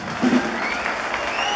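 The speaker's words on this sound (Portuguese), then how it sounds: "Sul-americana de Carabina, a Rosane, nossos aplausos" Sustained crowd applause at a Schützenfest shooting festival in Jaraguá do Sul, steady and fairly loud, with a faint tonal whine drifting over it.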